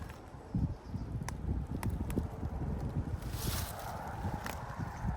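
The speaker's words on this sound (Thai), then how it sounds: "นี้ลมแรงนิดนิด" Wind blows outdoors in the UK countryside on a cool day of about 13 degrees while wild garlic is being picked, making a continuous low rumble that buffets the microphone, with light rustling and occasional soft knocks.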